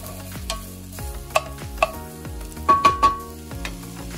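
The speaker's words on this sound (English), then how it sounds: "And this is how you're going to make caramelized onions." Onions cook in a pan on their way to caramelizing, with soft sizzling under a series of distinct clinks and scrapes from stirring, several sharper knocks clustered near the end, no speech.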